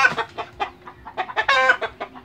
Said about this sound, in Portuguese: Aqui tá o galo, ó. É um casal de galinha,